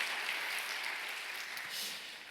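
An audience in a university chapel service applauds with steady, dense clapping. It sustains evenly at moderate loudness through the short span, with no voices standing out.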